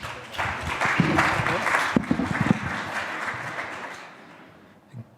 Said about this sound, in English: A round of applause for Pavel.